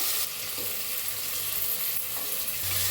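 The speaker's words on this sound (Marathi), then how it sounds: "आता ह्याच्यात टाकूया आपण टमाटो कापून घेतलेला" Chopped tomato drops into a pan of frying potatoes and onion for masale bhat, setting off a loud, dense, continuous sizzle with light stirring.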